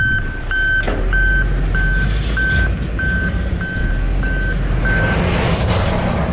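A truck stuck in snow backs up, its reverse alarm beeping at an even pace over loud, steady engine rumble.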